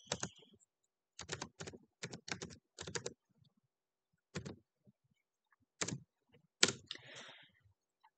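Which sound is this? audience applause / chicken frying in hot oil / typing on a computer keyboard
typing on a computer keyboard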